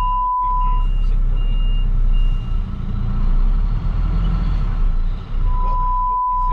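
A race truck backs up with steady reversing beeps sounding at the start and end over a loud, constant low diesel engine drone.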